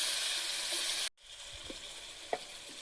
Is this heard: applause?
no